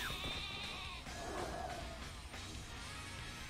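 Wooloo, the sheep Pokemon, lets out its bleating cry in Pokemon Shield: a wavering, sheep-like bleat heard clearly and alone, with game sound around it.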